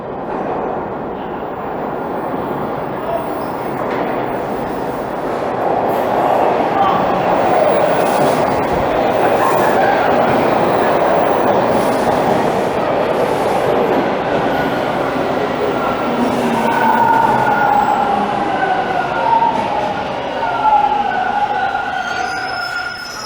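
A train in Toronto rumbles in from a distance and grows steadily louder, its drone joined by rising squeals and tones as it draws near.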